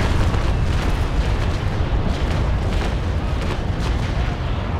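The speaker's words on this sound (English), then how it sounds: "I'm waiting for my cannons to realign and fire!" Naval Action sailing warships trade cannon broadsides, with a dense run of heavy booms and bursts rolling over each other for several seconds, loud and continuous with no talk.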